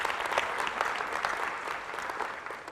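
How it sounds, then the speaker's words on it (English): Audience at a college convocation breaks into steady, dense applause, a continuous crowd of clapping hands that fades slightly toward the end, with no talking over it. "round of applause"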